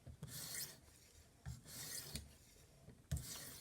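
A fillet knife is drawn along a TSPROF polishing stone in three slow, rasping strokes, each a quiet, close scrape with a soft knock at its start.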